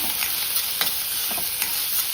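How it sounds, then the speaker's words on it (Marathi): A medium-sized chopped onion sautéing in a spoonful of oil in a kadhai, with a steady broadband sizzle and a few soft stirring scrapes, heard alone without talk. "एक चमचा तेल टाकते आता एक कांदा कापला मी तो टाकतो मिडियम साईजचा कांदा छान आपण परतून घेऊया"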